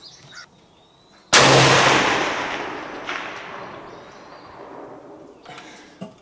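A single loud rifle shot from a Swiss K31 cracks outdoors at a 500-yard range and its boom rolls away in a long, fading echo across open ground.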